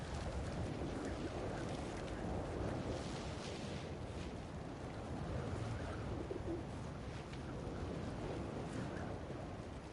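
Pigeons coo softly in a New York setting in the game Marvel's Spider-Man 2, low murmuring calls buried in a steady wash of ambient city and water noise throughout.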